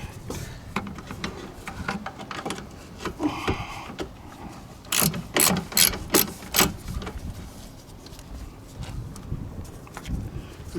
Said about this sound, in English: Put the ratchet on, put your backer on, and start taking them off.